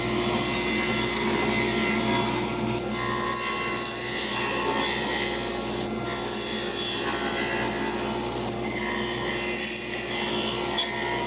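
A saw cuts a wooden board for French cleat shelves, set against a fence, giving a steady loud whine with rasping wood noise and three brief dips.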